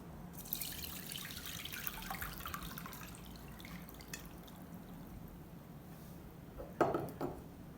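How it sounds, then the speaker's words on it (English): Water for a homemade insecticide is sieved and poured into a tumbler, producing a faint trickle and drips that end in a brief, louder splash. "you will sieve this water into the other tumbler."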